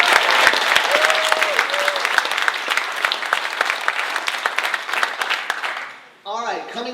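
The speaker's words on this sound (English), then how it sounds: "Another round of applause for Daniel Benedict." Loud, dense audience applause at a Mattel panel during a fan convention, as a contest winner is honored, with sharp individual claps and cheering throughout before the clapping thins and a voice speaks near the end.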